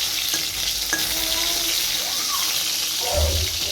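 Eggplant slices fry in a pan with a steady, close sizzle and crackle, punctuated by a few short clinks of utensils, with no talk over it.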